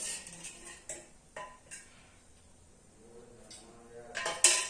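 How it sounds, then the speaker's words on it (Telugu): A metal pan clanks down onto a stove among a few scattered clinks of cookware, with a louder scrape and knock at the end, while making menthi kura pachadi. "ముందైతే స్టవ్ పైన బగోన పెట్టేసుకొని ఇందులో అయితే ఆయిల్ వేసుకోవాలి"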